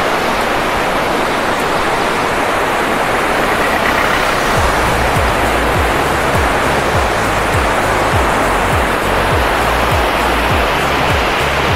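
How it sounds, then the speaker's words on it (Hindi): Fast river water rushes beneath the Buniyar bridge near Uri, a steady loud broadband roar with a faint low rumble pulsing through the second half. "ये पुल है बुनियार का और नीचे से देखिए पानी किस तेजी से जा रहा है।"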